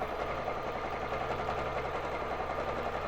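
A Baby Lock Jazz II sewing machine doing free motion quilting on a frame hums and whirs steadily and continuously at close range, with no speech over it.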